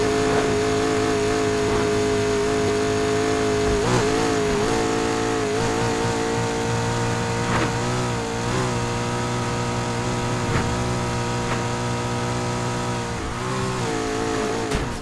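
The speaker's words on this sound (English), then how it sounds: "This car is crazy fast, like overkill fast, and it's not even modified yet." A McLaren P1 GTR in Need for Speed Heat roars under hard acceleration, its loud engine droning continuously with rising and falling pitch as it shifts and revs, unbroken by speech.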